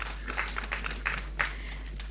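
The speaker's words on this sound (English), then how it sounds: "A big round of applause for their dedication and hard work for the Academy." Scattered, fairly faint applause from an academy ceremony audience honouring long-serving staff, with separate claps standing out over a low steady hum in the room.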